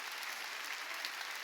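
A church congregation applauding during a New Year's Eve worship service, dense continuous clapping from many hands, even and fairly distant.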